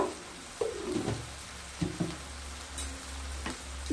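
A spatula stirs a vegetarian kankrol (spiny gourd) curry in a pan after salt and half a spoon of sugar go in. It makes a few close scraping strokes over a soft, low sizzle.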